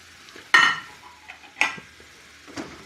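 Minced garlic, shallot and peppers sautéing for spicy shrimp, heard as three sharp scraping stirs in the pan over a faint low sizzle, close and otherwise quiet.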